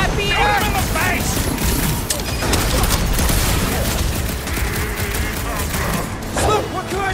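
Gunfire in the Guardians of the Galaxy video game during a chaotic battle, dense loud volleys and booming shots filling the whole stretch, with characters shouting over the combat.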